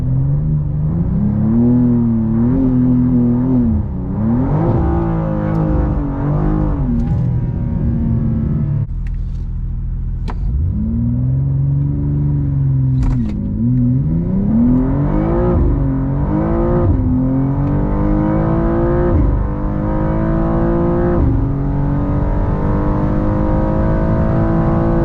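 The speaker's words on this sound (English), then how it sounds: "We're gonna do a small burnout." A BMW M2 G87 running on E85 fuel revs hard during a small burnout, its loud, close engine note rising and falling repeatedly with a brief dip midway, droning on without pause.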